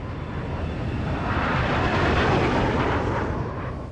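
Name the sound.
F-16 fighter jets flying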